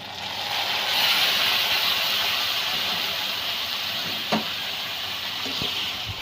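Mutton going into a pan of frying potatoes for railway mutton curry, giving a steady broad sizzling hiss with a couple of faint clinks, close and without talk.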